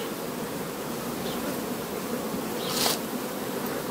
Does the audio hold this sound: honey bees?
yes